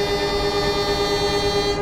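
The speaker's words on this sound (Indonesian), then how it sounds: "Oke, semboyan 35 dari masinis." Blambangan Express train horn sounding signal 35 at Kalisat station, one sustained steady tone held loud and unbroken throughout, with the rumble of the train beneath it.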